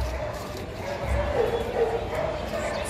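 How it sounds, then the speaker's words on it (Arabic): At a weekly outdoor dog market, a large, heavy dog gives deep woofs amid crowd chatter and general market noise, with people talking nearby. "كلب تقيل"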